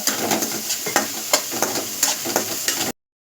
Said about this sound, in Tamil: நம்ம கீறி வச்சுருக்கிற ரெண்டு பச்சை மிளகாயும் சேர்த்து இதோட நல்லா பொன்னிறம் வர வரைக்கும் கிண்டி விட்டுக்கிடுவோம்